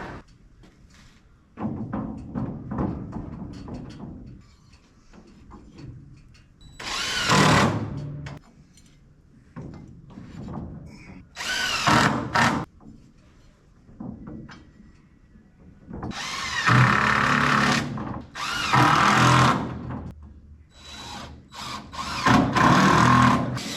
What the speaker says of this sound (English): we'll make sure we put more screws in to hold everything in place